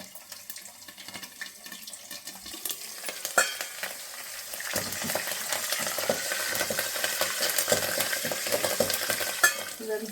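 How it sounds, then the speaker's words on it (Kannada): Curry leaves dropped into hot oil for raw mango rice burst into a sharp, crackling sizzle that grows denser and louder, dotted with spitting pops and a few clinks of stirring. "ಕರಿಬೇವು ಹಾಕಿದ್ರೆ ಸಿಡ್ಬಿಡುತ್ತೆ"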